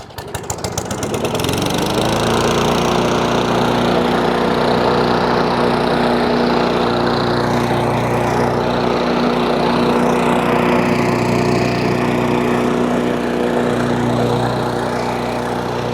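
A Briggs and Stratton lawn mower engine, freshly fitted with a replacement plastic carburetor, starts and then runs at a steady, even drone, loud and close throughout with no talking.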